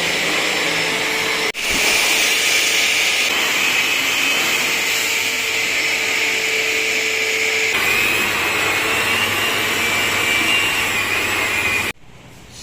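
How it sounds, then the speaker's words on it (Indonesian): A vacuum cleaner runs steadily and loudly inside a KIA Seltos 2020 car interior during detailing, a continuous high whine with brief shifts in tone as the nozzle moves, cutting off abruptly near the end. "satu lagi vakum interior"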